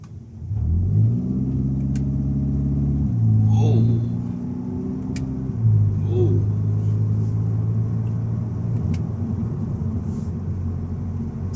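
A stock 210 hp VW Scirocco 2.0 TSI drives along, its engine drone and road rumble rising and falling steadily from inside the cabin, with someone talking over it.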